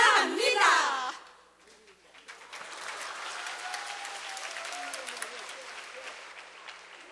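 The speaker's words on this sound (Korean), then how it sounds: "자, 우리 다시 한번 큰 박수를 보내주시기 바랍니다." Applause from a congregation in a Korean Methodist church during a Sunday afternoon service for a seniors' college. The sound starts with a burst of voice, then a steady wash of many hands clapping from mid-distance that continues to the end.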